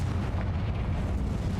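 A Confringo spell explodes in the Hogwarts Legacy video game, a dense rumbling boom that fills the whole short moment with low-heavy blast noise.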